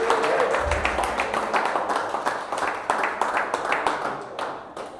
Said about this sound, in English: Everybody get East Wing a round of applause.